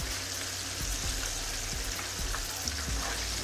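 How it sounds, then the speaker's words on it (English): Shrimp fry in hot oil with a dense, steady sizzle and crackle, close and continuous, with occasional soft knocks of a utensil in the pan and no talking. "while those are frying"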